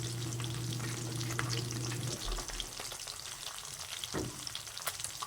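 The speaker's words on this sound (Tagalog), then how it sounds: "magprito ako ng galunggong" Galunggong (round scad) fish fry in a hot pan with a steady, loud sizzle and crackle. Brief stirring knocks follow partway through.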